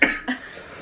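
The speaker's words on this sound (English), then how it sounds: "Don't start laughing. You're gonna have a coughing attack." A brief cough burst from a person at home, close and fairly loud, followed by a second softer cough, under a second long.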